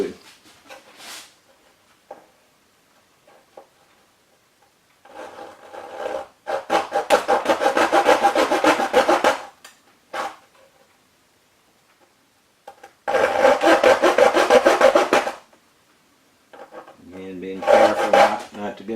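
Wood scoring along the rim of a DCC guitar kit, a dry rasping scrape heard in three sustained bursts of a few seconds each, separated by quiet pauses and small knocks.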